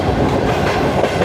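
The refurbished Pak Business Express passenger train runs through a station, loud and close, a steady rolling rumble of wheels on rail with rapid clickety-clack throughout.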